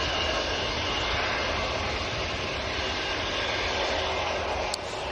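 Lufthansa Airbus A321 departing Manchester airport, a loud continuous broadband jet engine roar that stays steady and powerful throughout, with no talking.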